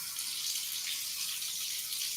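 A steady, close stream of water pours from a tap into a sink, a continuous hiss that stays even throughout with no pauses and no talking over it.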